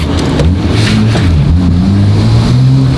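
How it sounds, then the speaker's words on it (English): Nissan R34 GTR engine droning loud and close through a park brake slide, the low engine note stepping up and down with revs while tyres scrub underneath, no talking. "Little park brake slide."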